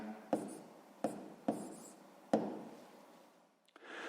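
Pen strokes writing a math answer on paper during a sixth-grade exercise, four distinct taps and scratchy strokes close up and quiet, with no talking.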